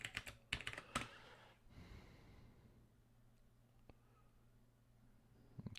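Password being typed on a computer keyboard during a pfSense setup in VirtualBox: a quick run of faint, close key clicks at the start, a quiet stretch, then a few more taps at the end.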